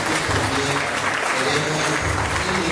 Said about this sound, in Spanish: Reiteremos este fuerte y caluroso aplauso